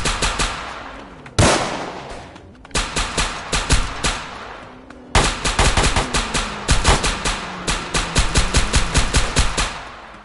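Rapid automatic gunfire in a Roblox South Bronx street shooter game, loud and close, coming in several long bursts of sharp repeated shots with brief pauses between them.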